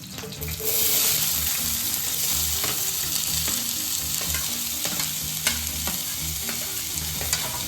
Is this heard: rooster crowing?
no